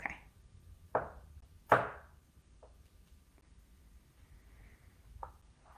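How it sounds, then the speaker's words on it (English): A knife dices a jalapeno pepper on a cutting board for mango salsa, giving a few sharp, separate chops spaced irregularly in a quiet room. "With the jalapeno, we want it to be nice and finely diced also"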